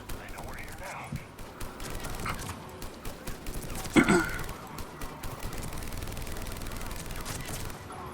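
Gunfire in the Mass Effect video game, rapid bursts of shots with a sharp louder report partway through, set among game sounds and a voice talking.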